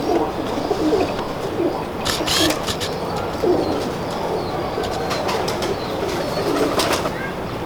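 Pigeons cooing repeatedly, soft throaty calls overlapping at close range, with occasional brief wing flutters in the background.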